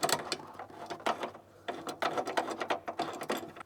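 A ratchet tightens the nut on a rear strut bar of a GC8 Subaru Impreza. The rapid, close-up clicking comes in quick bursts with a short pause, and no one talks.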